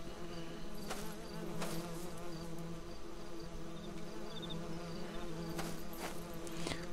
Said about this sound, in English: Buzzing noise.